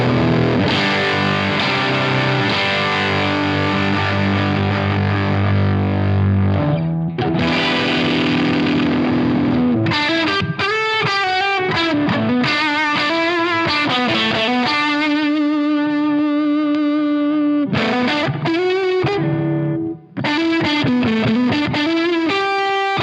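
Electric guitar played through a stacked Timmy overdrive pedal, a thick, distorted tone with sustained chords and then rhythmic riffing, loud and continuous with no talk.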